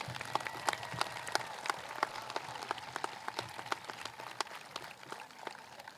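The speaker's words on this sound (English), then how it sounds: "Let's have a round of applause for all of our recognitions," At a 2023 high school graduation ceremony, an audience applauds with steady, dense clapping that stays at an even level throughout, with no voices over it.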